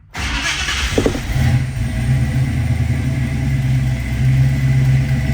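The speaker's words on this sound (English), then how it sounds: "I'm going to start this car up for you" A 1966 Ford Mustang with a fuel-injection system cranks and fires up on a cold start, then settles into a steady, loud, rumbling idle close by with no talking.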